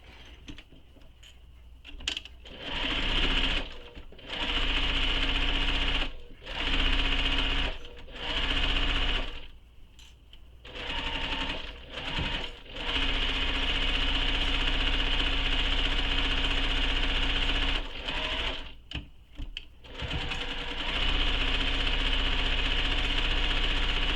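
Sewing machine stitching the side and bottom seams of a fabric crossbody bag, running in repeated bursts of steady motor whir separated by short pauses.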